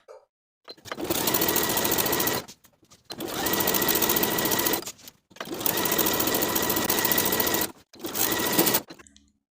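A sewing machine stitches a blouse hem close to the inner fold, running in four loud, close bursts of rapid needle hammering separated by short pauses, with no one talking.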